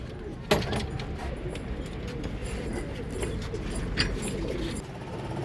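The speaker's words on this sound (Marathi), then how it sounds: "भरपूर कबूतर आहेत." Many pigeons of assorted colours kept in a fancier's loft, their soft cooing running continuously beneath steady background noise, with a brief clatter near the start.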